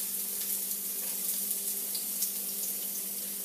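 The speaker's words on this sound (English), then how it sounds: "So I'm going to do the mushroom and the onion first." Mushroom and onion frying in a pan for a vegetarian pizza, a steady, moderately loud sizzle with a faint low hum underneath and no voices.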